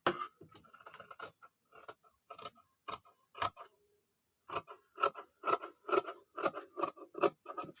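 Scissors snip repeatedly through blouse fabric at the back neck, giving a close, rhythmic series of crisp cuts with one short pause midway before the snipping resumes.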